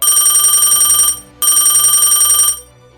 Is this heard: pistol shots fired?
no